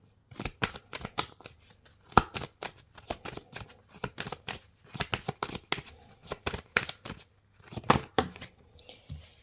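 Tarot cards being shuffled by hand in quick riffled bursts, a series of sharp flapping clatters separated by short pauses, close and fairly soft, with no talking.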